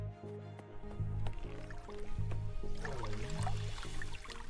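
A splash of a character hopping into steaming hot water in the game UnExplored, a wet, squelching slosh over a steady low game music bed, no talking.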